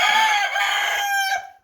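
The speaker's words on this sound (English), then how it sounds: "I want to go ahead and show you my 3 roosters." A sustained, loud cock-a-doodle-doo from one of three mixed-breed roosters hatched from an incubator, heard up close and alone, holding steady before dropping off abruptly.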